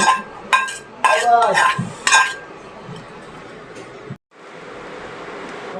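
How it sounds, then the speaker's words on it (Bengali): Quinoa fried rice with vegetables is stirred in a pan, a utensil scraping and clinking against the metal in short, lively bursts over a soft sizzle, close up, with a brief pause before the hiss resumes. "সবজিটা দিয়ে দিলাম, এখন মিক্স করে দিব আমরা।"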